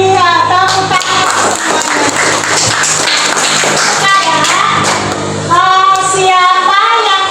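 A school class claps hands together, with rhythmic clapping mixed into loud, continuous children's voices that fill the room throughout.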